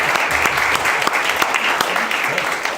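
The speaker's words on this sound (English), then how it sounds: "I would like you to give a round of applause to Kazi" An audience applauds a colleague at a gathering, steady mid-level clapping with a few sharper individual claps standing out, and faint voices under it.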